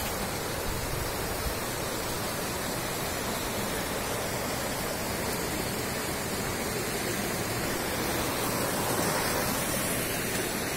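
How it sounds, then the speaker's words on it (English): A river flowing near a spice garden in Kerala makes a steady, dense rushing roar that holds constant and close throughout, with no voices. "This is the beautiful river."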